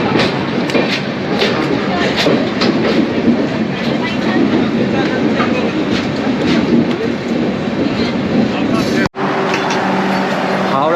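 An Upasana Express passenger train from Howrah to Haridwar rumbles loudly and continuously on the rails with rhythmic wheel clatter, heard from inside the carriage with a brief dropout near the end.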